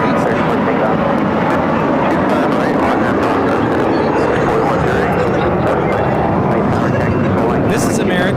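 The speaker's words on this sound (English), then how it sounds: "This is American Airlines 2667 taking off to Los Cabos on the A321." An American Airlines A321 takes off, a loud, continuous roar of jet engine noise with broadband rumble holding steady throughout, with a voice faintly mixed in.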